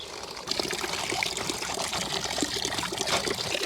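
Water runs steadily into a container in a garden, a close, loud pouring trickle that starts about half a second in and continues without pause, no voices.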